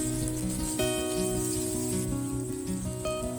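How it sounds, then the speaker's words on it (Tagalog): Garlic sautéing in a pan, toasted lightly for a Filipino dish of pechay and miswa, gives a steady, loud sizzle that runs throughout, with faint music in the background. "mag-start na po tayong mag-gisa. Unahin ko lang po itong ating bawang."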